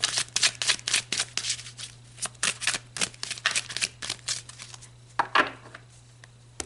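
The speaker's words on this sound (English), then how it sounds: "So let's pull some more cards." Cards are shuffled and pulled for a reading: a quick run of close, crisp riffles and taps that ends in a longer sweeping shuffle, with no voice.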